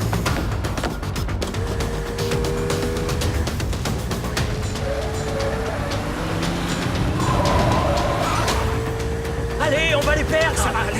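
A car accelerating hard during a movie chase, the engine roaring continuously under tense shouted dialogue, with tonal whines and bursts of noise layered through the scene.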